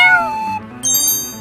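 A cartoon kitten meows in a run of high, drawn-out cries, sliding downward, then breaks off briefly before a sharper, higher squeal over soft background music.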